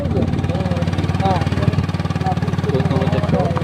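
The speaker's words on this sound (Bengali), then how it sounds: "পিছনে বাইক আসছে হ্যাঁ আরও পিছনে কিছু বাইক আসছে" Motorcycle engines run on a rough, broken village road, with a steady pulsing mid-pitched drone and bikes coming up from behind, while people talk over the engine noise.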